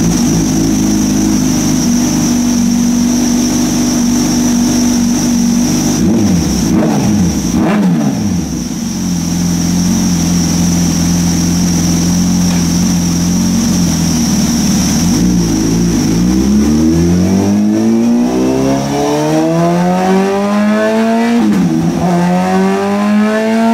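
A Gen 3 Suzuki Hayabusa motorcycle engine revs loudly and repeatedly on a dyno, pitch climbing and dropping in long sweeps, then winding up high and steady near the end.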